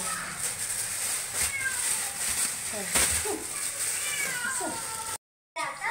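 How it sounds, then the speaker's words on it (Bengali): A cat meows several times close by, drawn out by the smell of fish, repeated drawn-out cries over background noise, with a short silent gap near the end. "বিড়াল ডাকতেছে, মাছের গন্ধ গেছে।"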